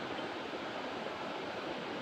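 Steady, continuous rush of a river flowing at a bathing spot, a dense even wash of water sound filling the whole moment with no voices over it.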